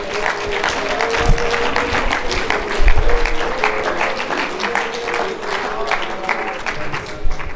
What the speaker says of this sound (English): Let's give God a clap offering as your pastor comes.